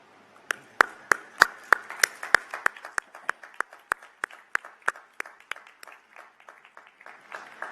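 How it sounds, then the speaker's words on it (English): A small number of people clap at a university commencement ceremony, with sharp, distinct hand claps that start strong and thin out gradually. The claps are close and dry, with quiet gaps between them. "join me in applauding your success"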